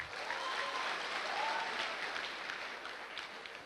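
An audience claps in a strong, sustained round of applause for the people from Darbhanga at a Safe Shop leadership talk, dense and even, then fading slightly at the end.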